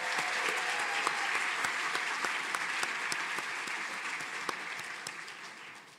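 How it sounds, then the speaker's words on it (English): Sustained applause from a ceremony audience at a medical school Match Day, a dense steady patter of many hands clapping that carries on throughout and slowly tapers near the end. "Another round of applause, please."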